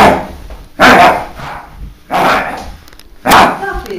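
A dog barks close and loud in three separate, spaced outbursts, each a burst of harsh barking with a brief tail, with quieter background noise between them.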